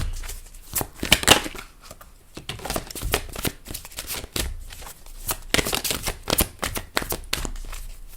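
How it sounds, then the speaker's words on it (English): Love oracle cards being shuffled by hand, a run of crisp riffling and slapping bursts repeating irregularly throughout, close and fairly loud with no talking. "let's go with the love oracle cards"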